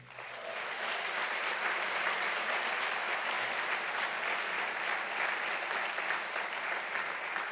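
Sustained audience applause at a Parsons School of Constructed Environments graduation recognition ceremony, a dense, even wash of clapping from a large crowd that fills the whole stretch without pause.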